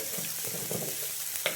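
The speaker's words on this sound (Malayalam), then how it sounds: "സവോള ഒന്ന് മൂത്ത് വരാനായിട്ട്" Sliced onion fries softly in a pan as it browns, a faint, even sizzling hiss with a small clink near the end.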